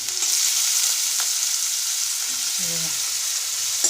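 Finely chopped onions fry with curry leaves in a pan for a Marathi bitter gourd dish, a loud continuous bright sizzle with a few faint low clinks beneath.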